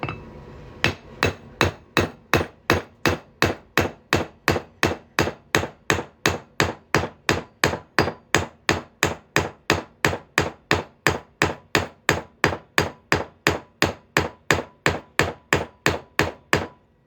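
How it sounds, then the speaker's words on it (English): A hammer strikes a punch through a thick coin while making a ring, about forty loud, sharp metallic blows in a steady, even rhythm, close up and with no talking. "I'm just gonna hammer that on through here."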